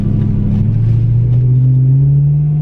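BMW M3 with a faulty throttle actuator driving sluggishly, a loud, close, steady low engine rumble inside the car that rises slightly in pitch, with no talking.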